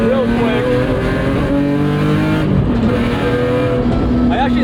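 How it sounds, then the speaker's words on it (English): BMW E46 M3 on a race track pulling hard through the gears, engine note climbing and dropping with each shift, loud and steady throughout. "This must have a shorter final drive ratio because I'm growing through those gears real quick."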